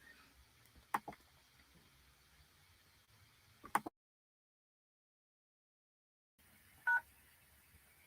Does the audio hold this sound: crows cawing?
no